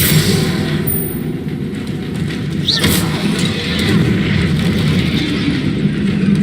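Confringo fire spell exploding in the Hogwarts Legacy video game, a loud sustained rumbling blast with roaring low-end and a brief sharp crack partway through, dense and close with no talking.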